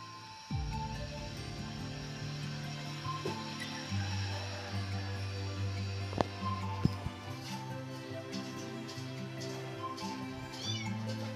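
Cats meowing outdoors in the morning sun, a few scattered meows rising over a low steady hum, with faint sharp clicks partway through.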